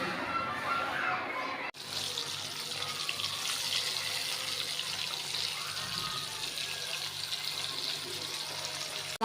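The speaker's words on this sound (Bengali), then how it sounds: "আমি পানিটা ঝরে নিছি দেখা" Water runs and drains off while hilsa fish is prepared, a steady close rushing flow like a tap into a sink that continues unbroken after a brief cut near the start.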